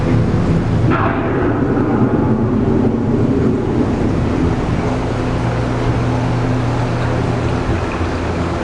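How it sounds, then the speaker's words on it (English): An approaching thunderstorm gives a loud, sustained rumble of thunder with wind noise, a sharper crack near the start settling into a long rolling roar. "The approaching storm may seem violent and destructive to us"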